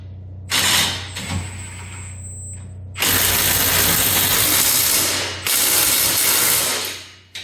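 A ratchet tightens bolts on a trailer hitch being fitted to a Polaris RZR-style KRX Trail Edition, giving fast clicking bursts in three separate runs with short pauses between them, close and loud.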